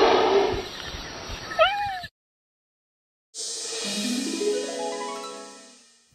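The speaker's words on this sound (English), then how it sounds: "Cheetah." A cheetah gives two close, drawn-out calls: first a rough, broadband snarling cry with a couple of brief rising chirps near its end, then after a short silence a long, wavering meow-like cry that fades out.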